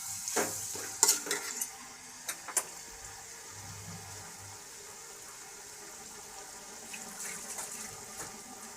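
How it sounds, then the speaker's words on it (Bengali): Spice paste with biryani spice powder and half a cup of hot water being stirred in a pan, giving soft scraping and faint sizzling with a few sharper clinks early on, fairly quiet throughout. "এর মধ্যে হাফ কাপ গরম জল দিয়ে মশলাটাকে আমি একটু কষিয়ে নেব।"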